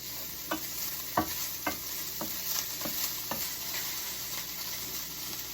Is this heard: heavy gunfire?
no